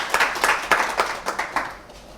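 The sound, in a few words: audience applause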